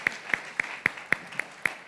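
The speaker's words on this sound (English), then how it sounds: "You can do another clap." Faint, evenly spaced claps from a seminar audience, about seven sharp hand claps in a steady rhythm under quiet room noise.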